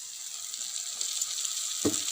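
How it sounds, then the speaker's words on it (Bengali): Egg curry spice paste sizzles steadily in a pan over a wood-fired stove, a continuous close hiss with a brief louder crackle near the end. "ডিমের মশলা কষা হচ্ছে দেখো উনুনটা কেমন জ্বলছে"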